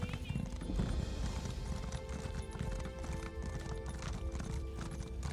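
Rhythmic clip-clop of horse hooves trots along steadily, with a whinny and musical background tones, like a game soundtrack, from Elder Scrolls Online.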